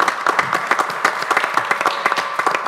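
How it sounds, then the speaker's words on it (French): An audience applauding live, a burst of brisk, close, continuous clapping with no talk over it. "Ça fait du bien d'entendre des vrais applaudissements"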